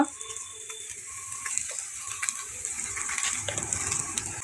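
Cut potatoes and Malabar spinach stems drop into a hot frying pan, giving a wet sizzle with stirring scrapes that builds gradually and stays close.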